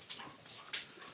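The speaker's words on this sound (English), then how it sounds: "so the dogs are now going to bark for a little bit while she walks in the door" Dogs at home giving short whimpers and yips as a person comes in the door, fairly faint and somewhat distant, with no talk over them.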